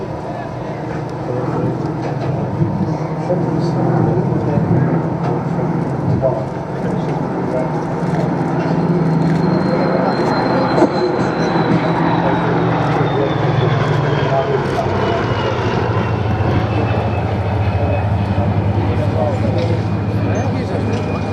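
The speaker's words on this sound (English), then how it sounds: "a trio of Spitfires turning" Three Spitfire propeller fighters turn overhead at the Duxford Flying Legends airshow, a steady droning engine growl with shifting pitch and a rising and falling whine, commentary audible over it throughout.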